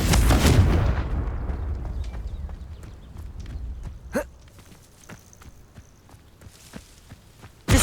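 A Confringo fire spell in Hogwarts Legacy bursts with a loud rumbling blast at the start that fades out, followed by a sharp crack midway and a handful of faint clicks and ticks afterward, ending with a sudden loud hit.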